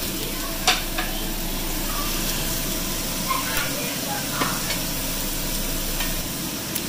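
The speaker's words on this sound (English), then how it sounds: "So my wok right now is frying me some onions" Onions frying in very little oil in a HexClad wok, giving a continuous close hiss and sizzle with a few light clinks and taps from stirring.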